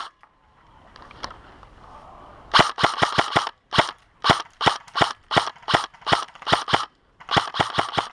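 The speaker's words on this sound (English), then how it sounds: "I cannot get my BBs through it, so I gotta get some elevation, and I end up wasting my entire mag and get him with the last BB" Airsoft gun emptying a magazine of BBs from an elevated spot over thick grass during an outdoor airsoft game: a quiet lead-in, then about fifteen sharp, loud snapping shots in quick irregular bursts, close and alone.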